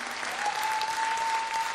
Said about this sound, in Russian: эти аплодисменты тебя провожают